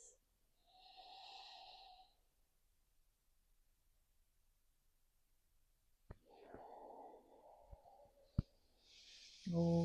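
Slow breathing during a gentle breathwork practice: one soft, drawn-out breath, a long quiet pause, then a longer breath with faint taps and rustles, fairly close and quiet.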